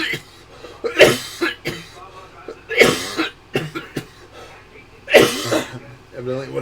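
Three sharp, harsh coughs come roughly two seconds apart, close and loud, with breathy pauses between them.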